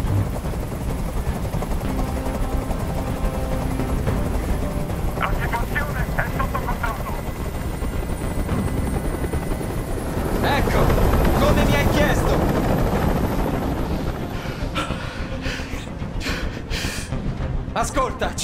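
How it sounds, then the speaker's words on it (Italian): Continuous low rotor drone of a helicopter hovering overhead in the video game Detroit: Become Human, loud and steady beneath stretches of tense dialogue. "Questo rumore mi sta facendo impazzire! Digli di mandare via quell'elicottero!"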